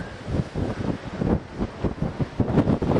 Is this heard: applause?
no